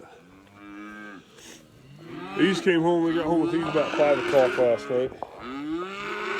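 Cows bought last winter moo repeatedly in a farm setting, a loud drawn-out call rising midway and others following close by, with someone talking over and between the calls.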